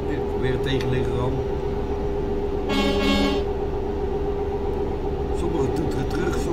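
A truck's air horn blares once for about a second in Euro Truck Simulator, loud over the steady drone of the cab engine and road noise, with fainter distant toots answering afterward.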